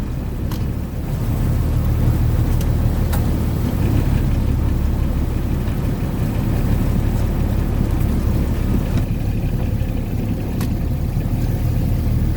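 A squid fishing boat passes behind the stern of another boat at sea, its engine giving a steady, loud low rumble mixed with constant wind buffeting, with no one talking.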